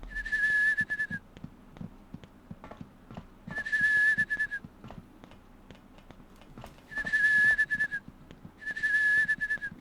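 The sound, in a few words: child whistling in Rule of Rose video game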